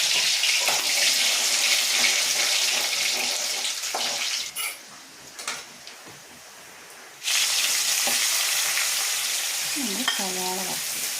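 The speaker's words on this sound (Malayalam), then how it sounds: "നമ്മൾ കാഷ്യൂ നല്ല ലൈറ്റ് ഗോൾഡൻ ബ്രൗൺ നിറത്തിൽ വറുത്തെടുക്കണം." Cashews frying in oil make a bright, close sizzle that drops out briefly in the middle before returning, with a short spoken voice near the end.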